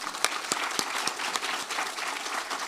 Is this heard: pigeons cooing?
no